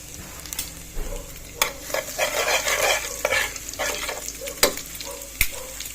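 Garlic sautéing in a pan for squash and long beans in coconut milk, a spatula scraping and stirring through a lively sizzle with several sharp knocks against the pan, no talking.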